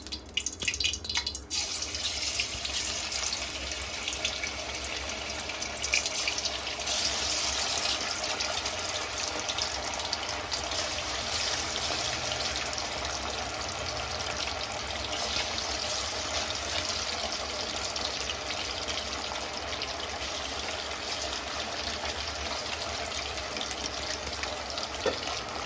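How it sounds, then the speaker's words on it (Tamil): Chicken pieces frying in hot oil, making a steady dense sizzle with crackling and popping that runs unbroken throughout, close and fairly loud with no voices. "எண்ணெய் சூடாகிடுச்சு. நம்ம சிக்கனை போட்டுடலாம்."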